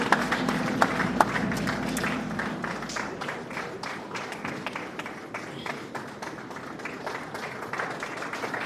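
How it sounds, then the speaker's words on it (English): Applause from an audience at a formal conference session as a dignitary takes his seat, dense steady clapping with scattered sharper claps, moderately loud throughout with a faint murmur of voices underneath. "A round of applause for His Excellency as he takes his seat."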